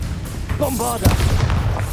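A Bombarda explosion spell in the Hogwarts Legacy video game, a single booming blast hitting about midway, loud and close, following a short spoken voice line amid ongoing battle noise.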